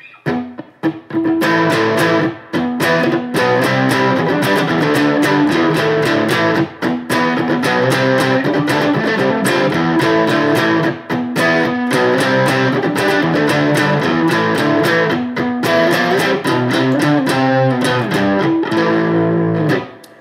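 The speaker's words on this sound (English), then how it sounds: "we're going to learn the guitar part from the rock song" A loud, heavily distorted electric guitar plays a chunky rock riff, continuous and driving with brief rhythmic stops, no voices.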